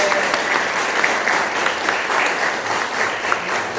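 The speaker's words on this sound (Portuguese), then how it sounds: "Nós queremos iniciar esse culto dando uma salva de palmas a vocês." A church congregation at a recorded worship service applauds its teachers, many hands clapping in a thick, even roar that stays steady and fairly loud throughout.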